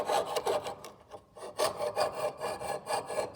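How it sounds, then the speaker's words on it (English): A hand saw cuts through clamped metal, rasping back and forth in quick, steady strokes, a close, scratchy rhythmic scraping. "As I'm sawing up and down"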